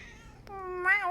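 A cat meows twice near a door, a short faint call followed by a longer, clearer meow, close and alone against a quiet room.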